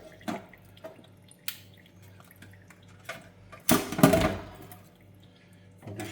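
A mud crab being washed under running water, with scattered drips and splashes before a louder burst of water and handling near the middle, close and fairly quiet.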